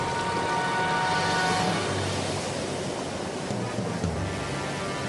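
High ocean waves during a storm, rendered as a broad, continuous roar of surf and rushing water that stays loud and steady with slight swells, and no voices over it.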